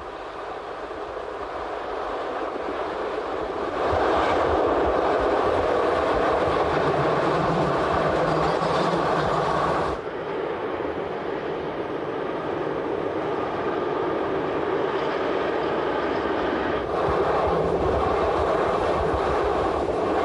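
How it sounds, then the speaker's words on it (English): A Swiss main-line train runs along a mountain railway past a footpath near Blausee, where the track takes a tight curve. The loud, continuous rumble and rattle of the passing cars swells and holds for about twenty seconds, with no voices. "At Blausee, the train passes round a 300-metre radius curve, the tightest on any main line in Switzerland"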